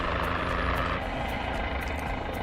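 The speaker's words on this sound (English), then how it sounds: "I'm trying to actually steer the helicopter" Steady rotor and engine drone of a Guimbal Cabri helicopter in a flight simulator, cruising over New York; a constant, even whir with no breaks, with no voices over it.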